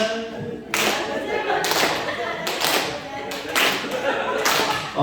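Audience at a Christian praise concert in a Jeju church claps in rhythm along to a song, steady loud hand claps repeating in quick bursts, with voices mixed in.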